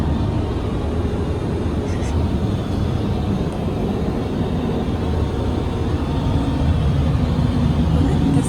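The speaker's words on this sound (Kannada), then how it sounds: "ನಾನೀಗ ಫ್ಲೈಟ್ ಒಳಗೆ ವಾಶ್ರೂಮಿಗೆ ಬಂದೀನಿ" Airplane cabin noise during flight, heard from inside an aircraft washroom: a loud, continuous low roar and hiss that stays steady throughout, with a voice talking faintly under it.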